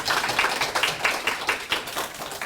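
Clapping from an audience at an awards ceremony for a social hackathon, moderately loud with a loose rhythmic pulse of hand claps, as if the crowd is clapping partly in time, with no speech over it.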